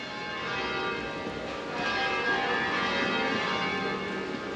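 Church bells ring out at midday at the entrance to an Italian old town along the Via Francigena, a steady wash of overlapping peals sustained throughout, fairly close and loud.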